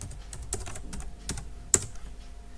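Keys tapped on a computer keyboard while typing a command, several soft irregular clicks with one sharper keystroke, quiet and close with no talk.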